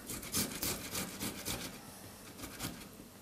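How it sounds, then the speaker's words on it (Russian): Tomatoes are grated by hand on a grater, producing a steady, rhythmic rasping of repeated strokes, close and fairly soft, continuing without pause. "Помидоры натираю на терку."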